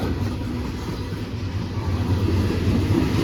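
A freight train made up of Conrail cars rolls past close by, a steady loud rumble with faint wheel clatter throughout, no voices heard.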